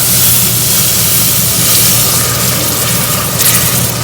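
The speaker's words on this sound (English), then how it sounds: "Then we're going to add the milk to that." Warm milk poured into a flour-and-butter roux for a croque monsieur sauce, a steady loud liquid rush and hiss holding evenly throughout without speech.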